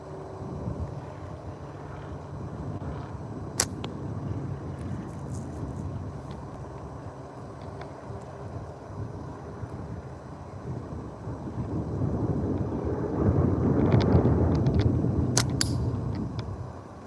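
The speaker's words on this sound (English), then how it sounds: "Got the wind blowing. Definitely storming somewhere." Steady outdoor wind rushes against the microphone with a storm somewhere nearby, building louder in the last few seconds, with a couple of faint clicks and no talk.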